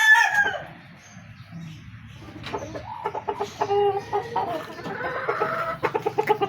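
Fancy chickens bought at an expo cluck and crow nearby, a long crow at the start followed by rapid, repeated clucking and calls that grow busier, with no talking.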